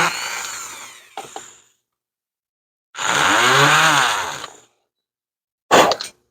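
A power drill upsizes a hole in a workshop, sounding as a few close, loud whirring bursts: one long run, a brief blip, another sustained run, then a short final spurt, with silence between them.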